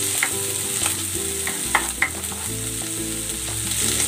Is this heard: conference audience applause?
no